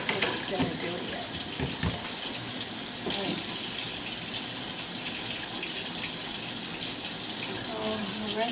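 Water runs from a tap during soap making as something is rinsed under it, a steady close splashing gush with brief clatter from handled items and no speech.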